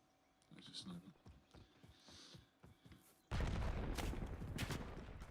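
Sniper gunfire in a video game lands as a few sharp cracks early on, under talk, followed by a loud sustained burst of rapid fire and explosions.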